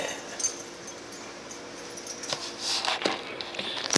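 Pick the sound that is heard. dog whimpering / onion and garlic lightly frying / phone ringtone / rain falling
dog whimpering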